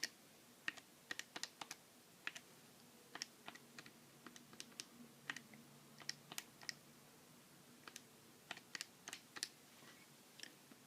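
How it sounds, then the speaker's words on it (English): Numbers keyed into a calculator while working out an income tax figure: a long run of light, quick plastic button taps in irregular bursts, close and faint, with no talking. "So I'm going to type that into my calculator."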